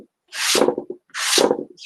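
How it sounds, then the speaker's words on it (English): Two strokes of rough sanding on wood, each a scratchy rasping sweep lasting under a second, close up with a short pause between. "little rough sanding."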